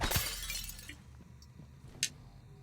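A glass window shatters in Prey (2017), a sudden bright crash at the start that scatters into a brief tinkle of falling shards, followed by quiet ambience and a single faint clink.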